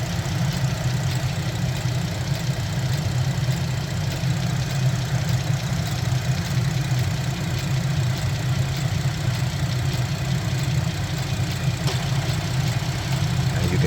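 A car engine idles steadily with a continuous low rumble as the AC compressor runs, a constant, fairly loud drone with no clear change and no talking.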